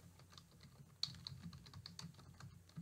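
Typing a chart title on a computer keyboard in Power BI: a steady run of quick, soft key clicks at close range with no voices present.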